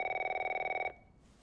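A telephone in a bedroom during the intro of The Last of Us video game rings with a close, steady electronic trill for just under a second before cutting off.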